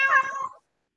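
A cat gives a single short meow, close and clear, tapering off into silence.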